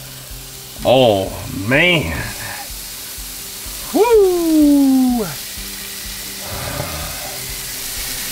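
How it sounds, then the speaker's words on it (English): Seasoned salmon fillets laid onto a blazing-hot Blackstone outdoor griddle give off a constant loud sizzle, with a voice exclaiming over it in a few drawn-out bursts. "This side of the griddle is blazing, so I'm gonna put those salmon fillets seasoning side down."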